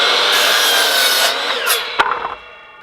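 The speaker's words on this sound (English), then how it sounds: "you cut the twist out of a piece of wood." A saw cuts through a piece of lumber for sawhorse legs, a steady close rasping stroke that fades near the end, with a sharp knock as the cut finishes.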